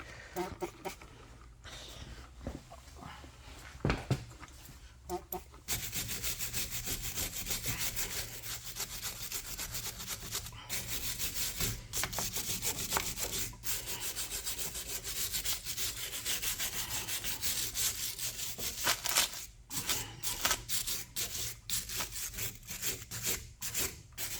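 A car brake caliper is scrubbed clean by hand, giving a continuous dense rasping and rubbing sound that runs nearly unbroken for the whole stretch, with a few short pauses early on.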